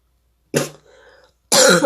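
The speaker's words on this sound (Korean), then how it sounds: "갑자기 좀 기침이 나와가지고 죄송해요." A lecturer coughs twice during a Korean-language astronomy class, two sharp close bursts about a second apart with a short rasping breath between them, and no other sound around them.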